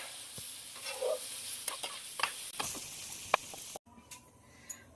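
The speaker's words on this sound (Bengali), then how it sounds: "পনিরগুলো এই পিঠটা ভাজার জন্য উল্টে দেবো।" Paneer pieces sizzle and crackle in hot ghee in a pan after being flipped, a steady close frying hiss broken by small pops and scraping taps, with no talking.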